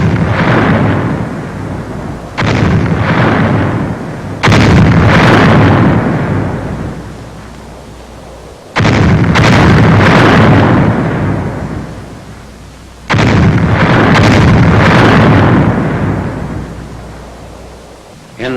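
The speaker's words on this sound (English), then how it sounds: "Final shelling of the town is directed by the 7th Field Artillery Observation Battalion." Artillery shelling of a town in a WWII combat newsreel, heavy booming blasts with long rumbling decays, several large detonations spaced seconds apart, loud and distant.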